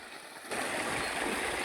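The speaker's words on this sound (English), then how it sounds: "see the motor is running" An irrigation water pump motor on a rice farm starts up into a steady, dense mechanical hum and whir, close and continuous after a quieter opening moment.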